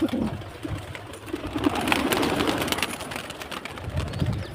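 Pigeons coo repeatedly in soft, throaty murmurs, several birds close by, with a busy rustling background and no talking.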